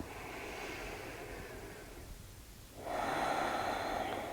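During a hip-focused yoga session, one person breathes deeply: a long, soft exhale fades to near quiet, then a fuller, louder breath follows, close and intimate with no talking.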